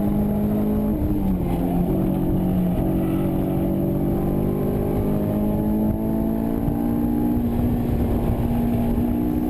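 A Honda S2000 race car at an SCCA time trial drives on track, its engine droning loudly and steadily from inside the cabin, the pitch rising gradually with a brief dip as the driver shifts.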